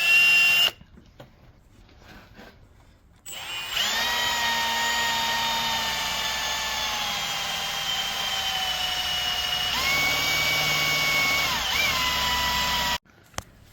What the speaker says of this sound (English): Now for the fun part, drilling a hole through the diff